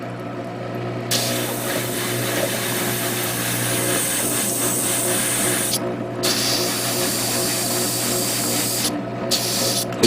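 A spray can lays down a coat of paint on a Gundam model diorama part. The hiss is loud and close and runs almost continuously, with a few brief pauses between bursts.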